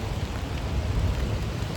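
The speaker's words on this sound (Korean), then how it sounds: "비가 와가지고" Steady rain falling outdoors on the walk to school, a dense, even wash of patter with no voices over it.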